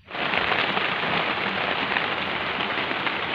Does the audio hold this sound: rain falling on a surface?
yes